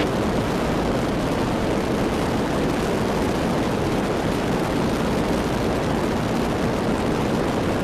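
A Zenith STOL CH 750 light aircraft on landing approach with flaps fully down, its engine and propeller giving a steady, loud, unbroken drone with wind rush throughout.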